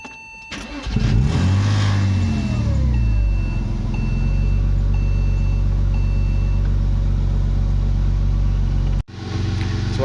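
A Porsche 986 Boxster engine starts and settles into a loud, steady idle nearby, humming evenly for several seconds before cutting out abruptly.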